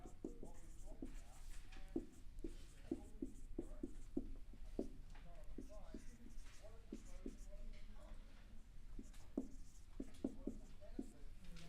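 Chalk or a marker writes rules during a Year 10 chemistry lecture on electron configuration, a run of quick, faint scratchy strokes and taps in a quiet classroom, with a few soft voice sounds in between.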